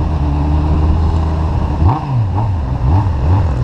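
A Honda Hornet motorcycle engine idles with a deep, steady rumble, then rises and falls in a few quick throttle blips, loud and close, with no voices.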